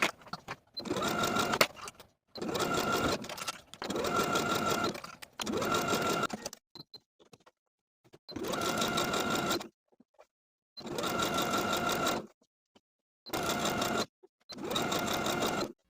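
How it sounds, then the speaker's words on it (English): A sewing machine stitches a tee shirt sleeve into the armhole with a quarter-inch seam, running in loud steady bursts of a few seconds each, separated by short pauses. "Then we can sew or serge the sleeve into the armhole with a 1/4 inch seam allowance."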